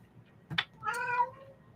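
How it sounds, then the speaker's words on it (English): A house cat gives two close meows, a short one followed by a longer drawn-out one, with a low hum in the background. "Did you hear that cat?"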